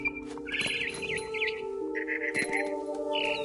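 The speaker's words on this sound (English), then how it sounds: "Then I heard chirping outside my window. It was a barn swallow going back to her nest." A barn swallow in The Finch video game chirps in quick bursts of twittering calls over a steady low hum of background game ambience.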